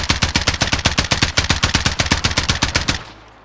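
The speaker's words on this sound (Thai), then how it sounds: "ถ้ามาใช้กับปืนยาวนะครับ ก็ต้องปรับเป็นยิงทีละนัดก่อน เราลองดู" Rifle gunfire in a video game, fired as a fast, steady string of sharp, loud shots for about three seconds before it abruptly stops and the reverberation fades.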